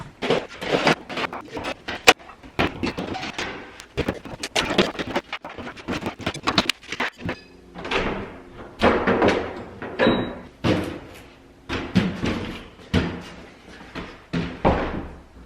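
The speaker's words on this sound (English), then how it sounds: "I'm gonna take this door down" Repeated knocks, thuds and scraping clatter of a wooden closet door being taken down during an apartment renovation, irregular bangs followed by rhythmic thumping and creaks, close by.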